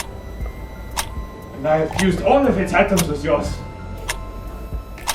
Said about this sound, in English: Hear that ticking sound?